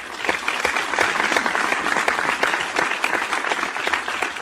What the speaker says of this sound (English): And a nice little round of applause for yeah.